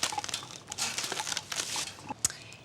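Cling film being stretched and wrapped over a dish on a microwave turntable, close crinkling and crackling in irregular bursts with a few sharp snaps.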